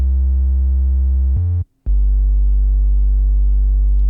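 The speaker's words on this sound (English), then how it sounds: "The sub bass is really simple. It's a triangle wave." A deep, smooth triangle-wave sub bass synth holds a low note, briefly steps up, drops out for a moment, then returns and sustains.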